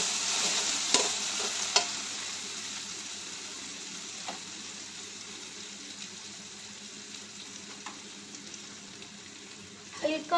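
Spiced powdered masala sizzles and is stirred in a kadhai while cooking a prawn and potato curry, with soft scraping strokes over a low steady fry and faint occasional clinks.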